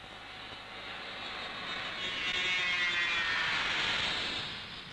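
A commuter jet airliner powered by M45H turbofan engines, built as a very quiet aircraft, passes with a steady broadband roar that swells to a peak midway and then eases off, heard alone at moderate distance.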